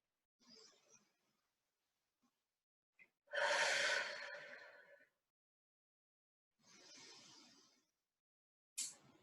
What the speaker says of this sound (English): Just breathe here.